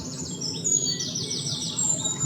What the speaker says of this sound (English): I think you can hear birds singing because birds love the flowers